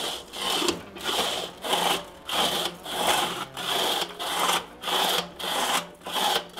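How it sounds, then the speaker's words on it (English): Timber scraper working water over the inside of a Weber kettle barbecue, a loud, steady back-and-forth scraping repeated in regular strokes roughly every 0.7 seconds, close up and alone. "Using a combination of H2O and my timber scraper, we're gonna slowly make our way down the barbecue"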